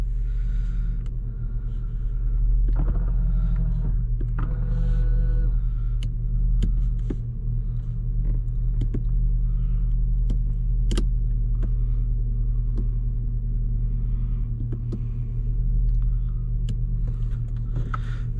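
A car on a test drive gives a steady, low engine rumble and road drone heard from inside the cabin, with a few faint knocks and clicks over it.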